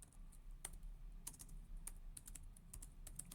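Rapid clicking keystrokes on a computer keyboard, irregular and fairly close, sometimes in quick runs and sometimes as single taps, over a low steady hum with no talking.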